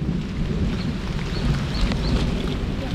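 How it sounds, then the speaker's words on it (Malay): Thunder rolls through a heavy rainstorm at a saltwater tilapia fishing spot, with low booming rumbles over steady rain hiss that stays loud and continuous. "Petir kilat menyambar-nyambar."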